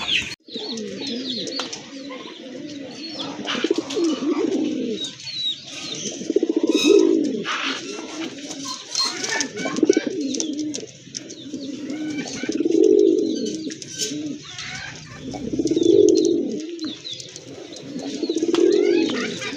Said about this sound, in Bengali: আপনারা দেখতে পাচ্ছেন একটা কবুতর খুবই ডাকাডাকি করতেছে